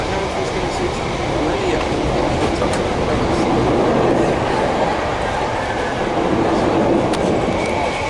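A Southeastern Networker train at Cannon Street gives off a steady, loud rumble and hum, with faint clicks and squeals over it and occasional voices.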